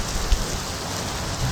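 Steady rain falls in the Skyrim video game on the road toward Riften, a continuous broadband hiss with a brief low thump near the start, no voices present.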